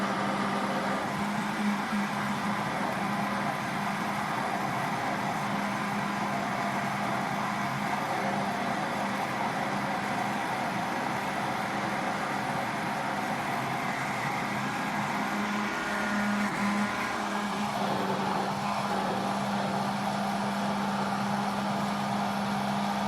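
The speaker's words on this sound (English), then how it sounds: "The blender's going." A blender whirs steadily while blending homemade paleo mayonnaise from egg yolks and an acid, a loud, continuous motor hum with a constant low drone that runs unbroken throughout.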